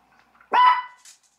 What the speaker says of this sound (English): you hear this little dog?